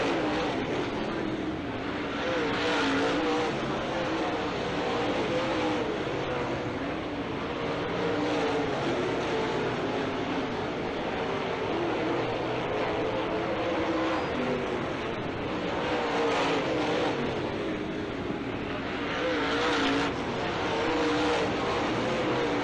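Late model race cars roar around the oval at Challenger Raceway, a dense, continuous engine drone that swells as cars pass, loud and sustained with a commentator talking over it.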